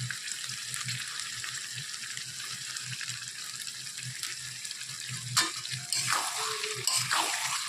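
Chicken with masala fries in a pan with a continuous close sizzle and faint bubbling, then louder scraping stirs near the end, no voices.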